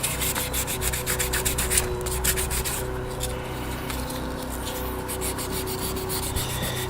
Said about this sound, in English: Just gonna go over and finish up the polishing here.